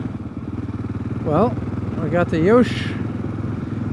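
A 2022 Kawasaki KLR650 fitted with a Yoshimura RS-2 exhaust idles in a garage. It gives a steady, low, throbbing thump, and someone talks briefly over it.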